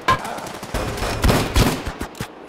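Fast Payday 2 gunfire during a heavy fight against shield enemies, rattling bursts of automatic shots layered over a loud chaotic din, close and intense.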